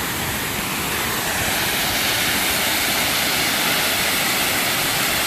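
Khlong Nam Lai waterfall in Thailand roars as a steady, dense rush of falling water, loud and unbroken throughout with no voices.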